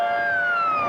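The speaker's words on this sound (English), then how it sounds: "Yet when warning sirens wail," A loud tornado warning siren wails with a steady, slowly falling tone, heard alone for a brief moment.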